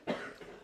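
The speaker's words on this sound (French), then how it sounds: "C'est moi qui vous fais tousser." A single short cough from a person in an audience, fairly soft and at a moderate distance in a quiet room.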